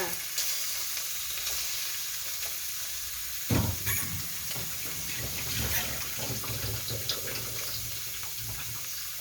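Shrimp stir-fried over high heat for tom yum fried rice: a sharp clatter as the pan is worked, then a loud, continuous sizzle and hiss with rattling stirring close by.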